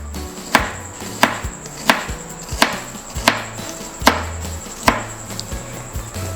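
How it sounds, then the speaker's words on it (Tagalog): A knife slices kamias (bilimbi) on a cutting board in sharp, evenly spaced chops, about nine crisp knocks in a steady rhythm, close and distinct, with no talking. "Hiwain lang po natin."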